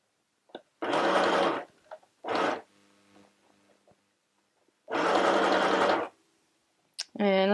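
A household sewing machine stitches fabric in several loud, steady bursts of rapid whirring, with short pauses between runs as settings are changed, and a brief rising mechanical whine at the very end.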